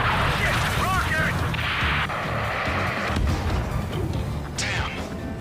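A rocket explosion in the combat game Ace Combat 7, a loud booming blast with crashing debris, followed by a second sharp impact and a whooshing burst, all heavy and close amid battle noise.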